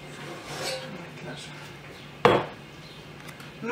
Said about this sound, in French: Fermez votre cocotte et laissez cuire.